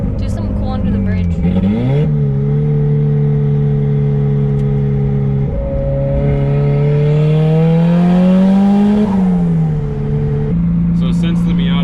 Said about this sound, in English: since the Miata's open downpipe, she's pretty loud and she's pretty fumy